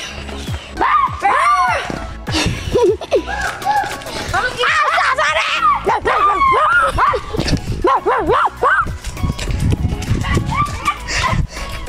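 Several dogs bark and yip repeatedly close by, with busy overlapping barks and whimpers mixed with people talking excitedly throughout.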